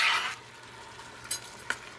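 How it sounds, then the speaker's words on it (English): Beef shank being stirred into a cooking base for surf and turf, a short hiss of sizzle followed by two quick spoon scrapes, close and quiet. "I'm going to add the beef shank. Going to mix that stuff with it."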